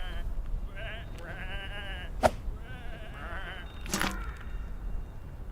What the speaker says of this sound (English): Come on, these are just sheep.